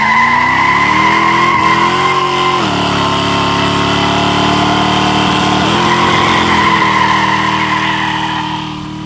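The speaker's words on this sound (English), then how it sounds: "Those are great burnouts." A car doing a burnout sends out a loud, close, sustained tire squeal over a roaring engine, wavering in pitch, then fades slightly at the end.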